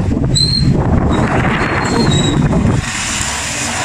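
An Asahi stand fan that had fallen and had a broken wire runs steadily and loudly up close, a dense rushing whoosh with faint whining tones, easing slightly near the end.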